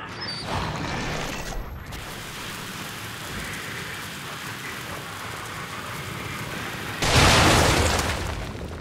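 A bomb blows up in the horror game The Evil Within, a loud broad blast arriving late after a continuous rain-like hiss and rumble, with no speech.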